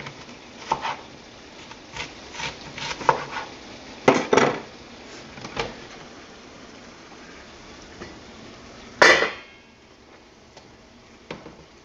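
Knife chopping onions on a board for buffalo and steak chili, a series of sharp, irregular close taps in small bursts with a louder clatter near the end, no talking.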